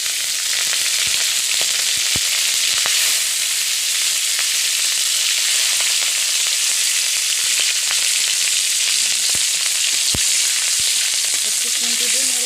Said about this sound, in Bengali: একটু খুন্তি দিয়ে নেড়ে দিচ্ছি।